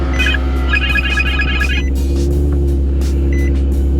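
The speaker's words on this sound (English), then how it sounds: "here's my trick to these early morning cold starts, because this thing is beyond loud" A 2021 Chevrolet Camaro SS 1LE engine idles loudly after a cold start on a cold morning, a deep constant rumble with a few chirping beeps over it.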